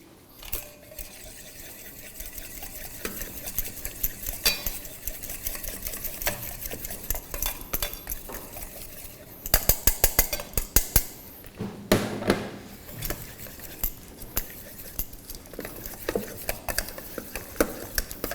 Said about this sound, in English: Now I will mix this corn flour also into this mix.